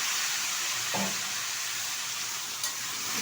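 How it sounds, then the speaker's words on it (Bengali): Small pieces of pumpkin, potato and green chilies hit a hot oiled wok, giving a steady close sizzle with a brief clatter as they land, then continuous frying hiss with no voices. "কুমড়োর মতো কিছু ছোটো ছোটো টুকরো করে নিয়েছি ঢেলে দিচ্ছি কড়াইতে"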